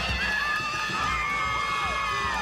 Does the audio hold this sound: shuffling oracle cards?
no